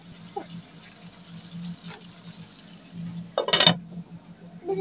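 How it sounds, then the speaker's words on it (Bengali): A lid is set over a pan of tomatoes cooking with sautéed onion and garlic, making one short metallic clank against a quiet background of faint kitchen noise. "তো এখন ঢাকনা দিয়ে ঢেকে দেব।"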